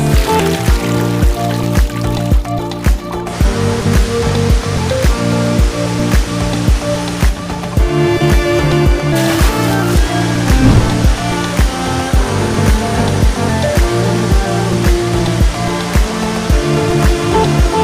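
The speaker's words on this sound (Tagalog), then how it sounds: "Verdivia Falls." Verdivia Falls, a waterfall in Bulacan, roars steadily and loudly up close, a continuous dense rush of falling water with no voices.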